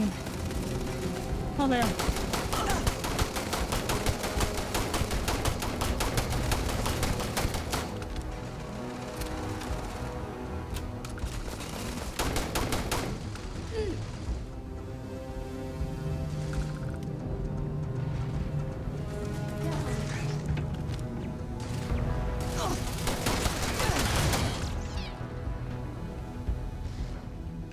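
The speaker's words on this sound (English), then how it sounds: "I didn't even see where they're shooting me." Enemies open fire on the player in Starfield, with sustained bursts of gunfire and several loud volleys over a stretch of nearly half a minute, and someone speaks briefly.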